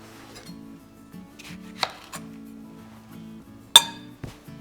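A knife chops through lemons on a board in a few sharp, separate strikes, with a light clink of glass or dishes between them. The sounds are close and clear against a faint hum, and nobody speaks.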